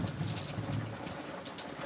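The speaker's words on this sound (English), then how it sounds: "I'm sitting under the patio, just listening to the rain" Steady rain falls outside a covered patio, a dense, even hiss of drops on surfaces with a low rumble underneath, constant and close throughout with no voices.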